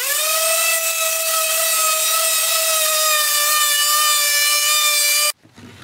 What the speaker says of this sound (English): I'm going to give it a good sanding with a 120 grit sandpaper.